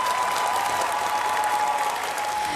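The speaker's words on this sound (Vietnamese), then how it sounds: "Vỗ tay cho chị Khả Như." An audience at a televised singing competition breaks into loud, sustained applause for a judge, with even clapping and a faint steady tone running underneath.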